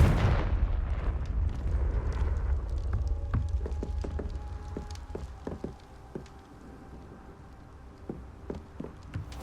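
Confringo fire spell in Hogwarts Legacy bursting with a loud opening boom that rolls off into crackling debris, scattered sharp pops and a fading rumble.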